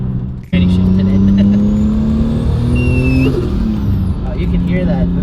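Nissan R34 Skyline launching into a hard pull, its engine note rising steadily in pitch as it accelerates, loud and close from inside the car, with people talking over it.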